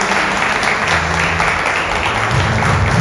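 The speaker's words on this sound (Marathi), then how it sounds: "ते येत असताना प्रभूच्या नावामध्ये आपण टाळ्या वाजवूया." A congregation at a prophetic church meeting applauds steadily to welcome a speaker onto the stage, a dense, continuous clapping that stays loud and even throughout.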